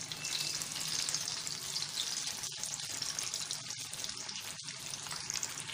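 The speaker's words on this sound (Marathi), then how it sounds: "एक कटलेट डीप फ्राय करण्यासाठी कढईमध्ये तेल घेतलेलं आहे गरम करायला" Leftover chapati cutlets deep frying in hot oil in a kadhai over medium heat, a steady close, loud crackling sizzle with brief dips, no talking.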